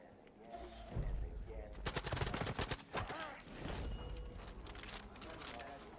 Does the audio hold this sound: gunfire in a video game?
yes